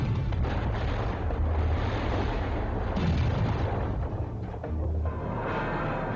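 Explosion of a building filled with flammable solvents during a fire, a sustained heavy roar of rumbling blasts and crackling booms that stays loud and dense, easing slightly near the end.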